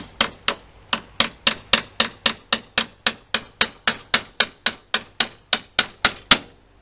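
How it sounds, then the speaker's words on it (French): A hammer taps a screwdriver to drive out a pin on a Renault 4TL window, producing about two dozen sharp, evenly spaced metallic knocks, close and crisp. "Vous venez mettre votre tournevis comme ça et vous tapotez gentiment."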